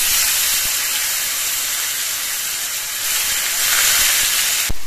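Onion paste frying in hot spiced oil for a wedding-style katla fish kalia, giving a steady, bright sizzling hiss that holds for several seconds, ending with a brief clatter.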